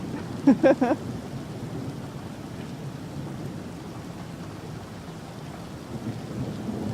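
Thunder from a monsoon lightning storm rolls as a low, sustained rumble over the steady hiss of rain, with a few brief sharper bursts near the start.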